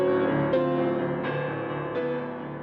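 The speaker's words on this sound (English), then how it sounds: "So that playing it on the piano would sound like this." A piano plays a Chickasaw-based melody in a few struck notes, each ringing on and fading into the next, close and clear with no voices.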